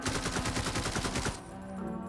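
Rapid automatic gunfire from the VR shooter Beyond Sandbox rattles in a fast, even stream of sharp shots for just over a second, then cuts off into a fading ringing tail.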